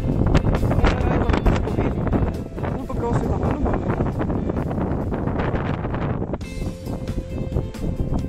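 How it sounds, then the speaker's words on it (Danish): Strong spring wind roars into the microphone outdoors in a heavy, continuous rumble with gusty bursts, while a person talks over it. "Himla vær og himla vind."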